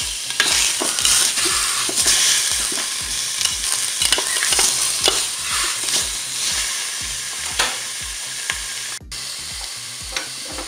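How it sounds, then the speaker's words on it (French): A pork roast browns in a Cookeo multicooker, sizzling and frying steadily close by, with repeated stirring scrapes in a regular rhythm and no talk. "Je vais laisser le préchauffage se faire pour pouvoir faire dorer ma viande."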